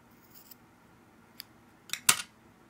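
Scissors snip crochet yarn for a Wayuu mochila bag, a couple of faint clicks followed by a sharp, close double cut near the end, with no talking.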